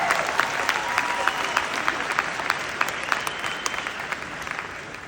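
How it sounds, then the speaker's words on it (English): A seated audience at a Gladiator Summit motivational speech bursts into applause, a dense, steady wash of clapping from many hands that holds for five seconds and slowly thins. "Oh, you can clap."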